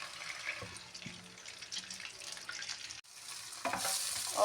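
Tofu taken from the freezer fries in hot oil, crackling and spitting from the water on it, with irregular pops over a soft steady hiss that briefly drops out, then grows louder.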